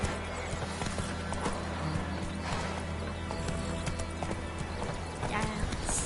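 Roach, the horse in The Witcher video game, gallops with a rapid, steady clip-clop of hooves under game ambience and a snort or whinny, while someone talks over it.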